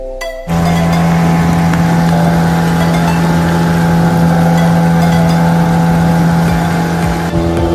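A boat engine on Pawna lake starts abruptly and then runs at a loud, steady drone with a strong low hum, close by and with no talk.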